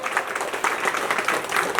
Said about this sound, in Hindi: जोर भरी तालियां, जोरदार तालियां।